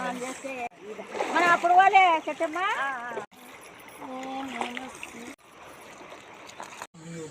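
People bathe at sunrise in the river at the Triveni Sangama confluence in Karnataka, with water splashing and sloshing nearby, mostly under loud, close voices that talk and call out through most of the stretch.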